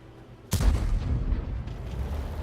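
A single heavy tank cannon shot in World of Tanks booms out at once, loud and close, followed by a long rumbling decay and low battlefield noise with no voices.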